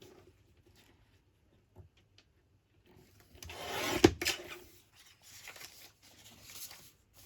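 Paper strip being trimmed for a handmade journal envelope, heard as quiet, close rustling and a short crisp cut, followed by soft paper handling sounds.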